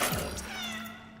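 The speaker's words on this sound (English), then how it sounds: "Pet the cat." A cat meows once within the video game Cronos: The New Dawn, a short close call over a low steady game hum, with no talking.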